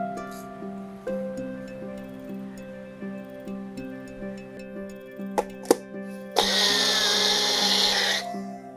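A mixer grinder whirs as it grinds roasted semolina (rava) for gulab jamun, a steady tonal motor hum with a few sharp clicks, then a loud harsh grinding roar for about two seconds before it cuts back to the hum.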